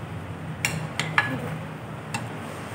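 A spoon clinks against a bowl while roasted tomato chana chaat ingredients are mixed, giving several sharp, close metallic taps over quiet background noise.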